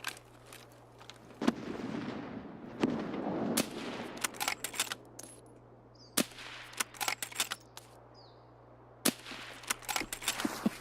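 Gunfire in a multiplayer shooter video game: scattered sharp shots, single cracks and short bursts, some near and loud, others distant, spread unevenly over a low steady background hum.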